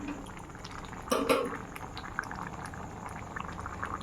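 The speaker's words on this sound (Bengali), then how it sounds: "তড়কা বসিয়ে দিয়েছি, এবার একটু ফুটতে থাক।" Tarka (lentil curry) boiling in a pot in a home kitchen: a continuous soft bubbling and simmering with one brief louder burst of bubbles, heard alone without voices.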